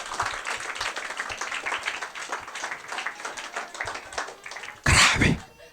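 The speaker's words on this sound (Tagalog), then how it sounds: "Palakpak naman po sa Panginoon." Church congregation applauding in praise, a dense steady patter of many hands clapping throughout, with a brief louder burst near the end.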